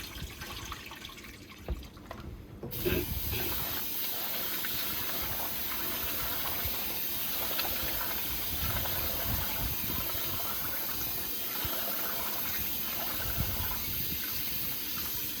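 Running water splashes and churns steadily after a quiet start as rice is swished and rinsed in a bowl under a tap, with no talk.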